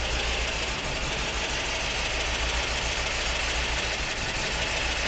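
A 1975 Porsche 914 engine runs steadily at a loud, close idle-like drone with a low rumble, while the clutch is let out in first gear; no voices are heard.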